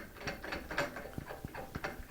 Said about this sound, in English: So I'm going to take this machine regulator and screw onto the tank.